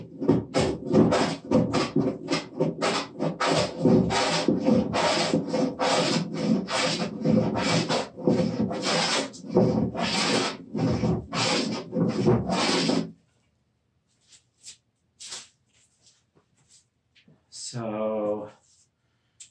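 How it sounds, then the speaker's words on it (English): Wooden smoothing plane shaving along a workbench top in a quick run of rhythmic strokes, each a close, crisp swish, then a pause with a few small knocks and a brief voice. "where I'll switch over to the smoothing plane"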